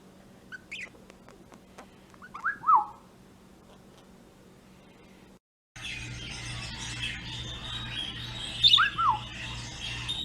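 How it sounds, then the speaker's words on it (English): Birds calling outdoors, a few short squawking chirps rising and falling, moderately near, over a steady low hum with a brief gap midway. "I don't know how well you can see them, but birds."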